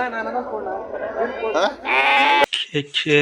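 Sheep bleat in a busy livestock market at Kerur, a sheep and goat market, with several loud calls in quick succession close by while people talk nearby.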